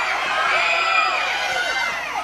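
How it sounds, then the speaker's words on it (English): Wrestling crowd yelling and cheering at a wrestler to hurry up, a dense continuous roar of many shouting voices filling the arena without letup. "The crowd's telling him to hurry."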